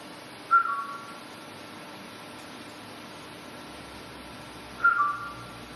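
Two short, faint whistles, each a brief rising-then-falling tone, sound several seconds apart over a quiet background hiss inside Sutton House during a ghost hunt.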